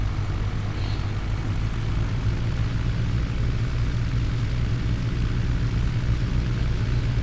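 A Grumman American AA-5 Traveler taxis in X-Plane 10, its propeller engine a steady low droning rumble, loud and unchanging throughout.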